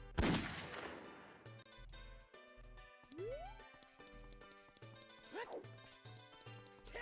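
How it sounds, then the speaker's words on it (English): A Shadow the Hedgehog gunshot sound effect fired from a soundboard: one sharp, loud blast at the start, followed by game music with swooping chirps and tones. "I added the Shadow the Hedgehog gunshot sound effect to my soundboard."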